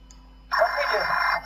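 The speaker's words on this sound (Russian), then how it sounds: "телефон." A telephone starts ringing abruptly, a buzzy electronic tone sustained for about a second, fairly close and clear.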